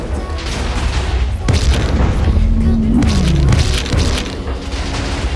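Explosions from a monster shooting in the Minecraft video game, a loud, dense run of booming blasts with a sharp crack early on and a rumbling low tone sweeping through the middle, sustained throughout.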